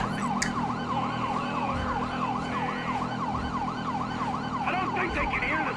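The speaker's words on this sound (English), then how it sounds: "I don't think they can hear the sirens." Emergency vehicle sirens in the video game Grand Theft Auto V wail steadily in repeated rising and falling sweeps, loud and continuous over a low engine and traffic rumble.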